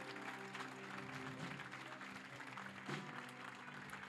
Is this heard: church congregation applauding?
yes